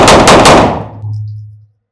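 Three rapid close pistol shots in point shooting practice at about 3 meters, loud and sharp, followed by a low ringing decay as the echo fades out.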